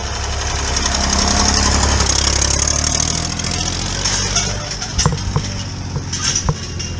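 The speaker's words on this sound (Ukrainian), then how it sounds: "Бачите, справжні труженики села на тракторах." A tractor engine runs in a village, a steady loud rumble that eases after a few seconds, followed by scattered knocks and clatters.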